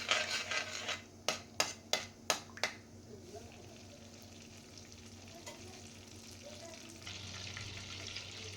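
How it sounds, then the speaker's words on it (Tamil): Butter and oil melt together in a pan for Gujarati-style pav bhaji, a low, steady sizzle following a quick run of five sharp metallic taps, fairly faint and without talk. "கொஞ்சம் எண்ணெயும் சேர்த்துருக்கேன் ரெண்டும் நல்லா உருகட்டும்"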